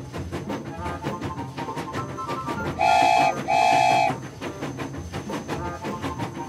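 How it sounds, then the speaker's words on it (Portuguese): Toy train sound: a rhythmic rolling chug with two sustained whistle toots in the middle, loud and close, alone without talk. "Isso é um trem."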